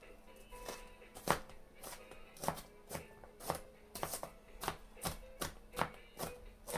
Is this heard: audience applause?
no